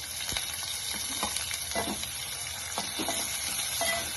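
Onions sizzling in hot oil in a pan with cumin and mustard seeds, a steady crackling fry with scattered spoon scrapes and pops, close and moderately loud with no talking.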